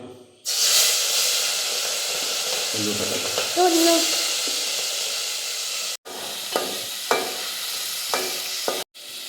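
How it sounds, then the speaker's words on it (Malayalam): Prawns fry in a hot pan, giving a steady loud sizzle and hiss with stirring scrapes and a few clinks, brief interruptions breaking the continuous frying noise. "അങ്ങനെ നമ്മുടെ ചെമ്മീൻ ഇതാ പൊരിച്ചെടുത്തിട്ടുണ്ട്"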